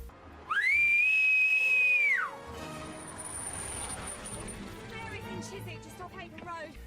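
A loud, piercing whistle held steady for about two seconds, followed by street noise and murmuring voices.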